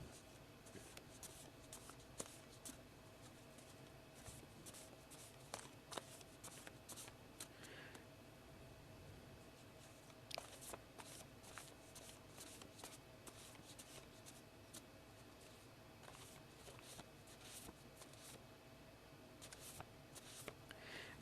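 Tarot cards being shuffled by hand, a soft continuous riffling and sliding with light taps, close and quiet, with no talking.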